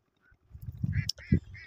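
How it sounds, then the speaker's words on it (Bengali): Ducks on a village beel wetland in Dharmapasha, Bangladesh, give a brief burst of a few nasal quacks and honks at moderate distance, faint and alone. "আবার কোন প্রচুর হাঁস থাকতেছে বিলে"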